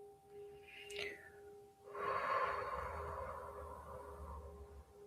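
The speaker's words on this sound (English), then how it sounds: "Always begin with a big exhale through the mouth." A single big exhale through the mouth during a meditation session, starting with a short sharp intake and then a long, slow, breathy rush of air that fades out, close and quiet.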